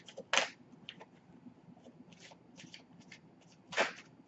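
Tarot cards being shuffled by hand, two louder riffles near the start and end with softer flicks and taps between, close and fairly quiet.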